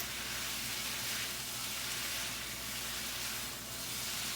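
Hoisin cashew chicken sizzles and crackles steadily in a wok over high heat, a loud continuous hiss of stir-frying with no voices.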